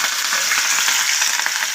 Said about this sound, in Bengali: ফিশ মোগলাই যে মাছের দুটো পেটি ভেজে নিচ্ছি।